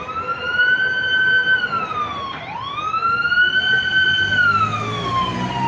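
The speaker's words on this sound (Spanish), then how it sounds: "Ahí viene arribando, bueno, viene pasando, yo creo que viene de paso esta ambulancia." An ambulance siren wails as the vehicle passes close by, loud and rising and falling, with a clear pitch drop midway as it goes past, over faint traffic noise.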